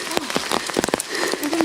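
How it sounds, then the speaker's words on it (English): Rain patters and spatters on surfaces in Grizedale Forest, Cumbria, a dense close crackle of drops with voices talking over it. "And it's raining."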